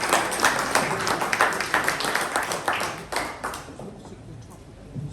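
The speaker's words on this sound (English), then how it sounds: "Can we have a round of applause for the staff of the hotel?" An audience in a pub applauds the hotel staff with a few seconds of dense, fairly close clapping that thins and fades toward the end.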